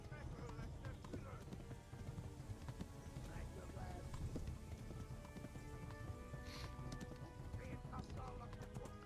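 Continuous galloping hoofbeats of a horse in the video game Kingdom Come: Deliverance, a busy patter of hooves mixed with other game sounds, moderately close and steady throughout.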